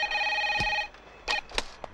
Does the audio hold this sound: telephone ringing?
yes